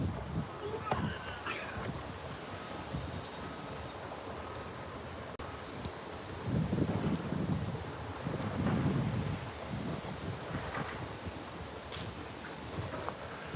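Wind blows outdoors across a microphone on a rock-weighted tripod, a continuous rumbling gusty roar that swells louder around the middle.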